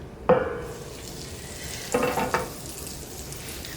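Fat melts in a pan for scrambled egg, giving a soft continuous sizzle with two louder bursts of crackling as the pan is handled, close and without talk.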